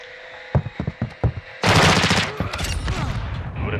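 Gunfire in the video game Call of Duty: Modern Warfare II during a Team Deathmatch: a few separate sharp shots, then a sustained loud burst of automatic fire with chaotic battle noise continuing after it.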